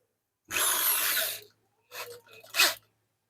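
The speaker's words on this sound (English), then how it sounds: "I'm using a corded drill" A corded power drill bores into a bedroom door to make a hole for a new knob: one long whining burst of about a second, then two shorter bursts with a brief pause between them, close and loud.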